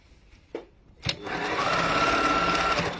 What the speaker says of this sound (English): I'm going to stitch across